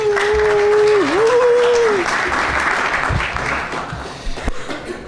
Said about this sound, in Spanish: un gran aplauso para Carlos y